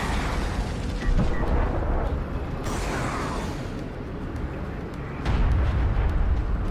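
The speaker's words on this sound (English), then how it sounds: "Really nice missile barrage from Rompafrolic there" A missile barrage in the video game Homeworld: Deserts of Kharak sets off a dense roll of rumbling explosions, with louder booming bursts near the start and the end.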